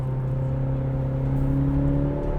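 A 2020 Cadillac CT5 four-door sport sedan accelerates from inside the cabin, its engine drone holding a steady hum that climbs slowly in pitch as speed builds.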